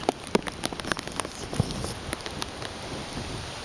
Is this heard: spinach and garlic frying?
no